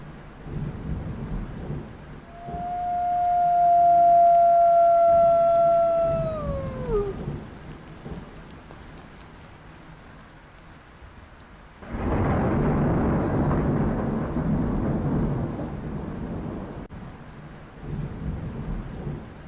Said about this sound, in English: Black Wolf howls to the thunder.